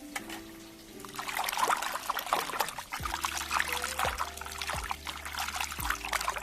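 Water trickles and splashes steadily while raw prawns are rinsed for a Kerala-style roast, close and moderately loud. A low tonal hum drops several times in the background.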